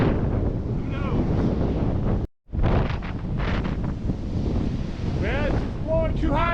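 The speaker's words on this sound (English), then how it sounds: "Well, it's blowing too hard out here" Strong wind roars across a microphone on a Michigan shore during a windstorm, with big crashing waves of around ten feet booming continuously beneath, loud and near, broken only by a brief dropout.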